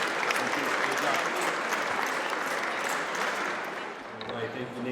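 Audience applause at a press event at a state capitol, a steady wash of clapping that fills the whole stretch and eases slightly near the end, with faint voices mixed in.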